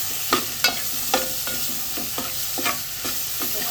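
A spoon stirs crab curry masala made with wet ground coconut and garam masala in a pan, scraping in a steady rhythm of about ten sharp strokes over a soft, continuous sizzle.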